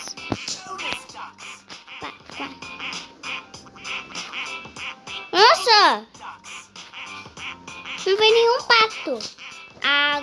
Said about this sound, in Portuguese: Aqui, ó, vem os patos também